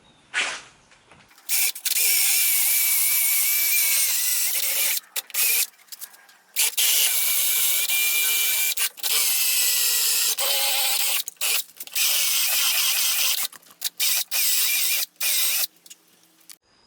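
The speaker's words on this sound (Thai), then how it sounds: "ทีนี้ก็เจาะทะลุเลยครับผม" A power drill runs loud and close in long bursts, stopping briefly between runs as the bit bores through wood while building a homemade Moxon vise.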